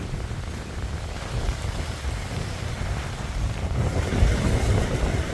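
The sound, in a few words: large motor boat arriving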